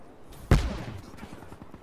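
A single loud gunshot burst in the video game Black Ops 3, a sharp close blast with a short decay over faint game background noise.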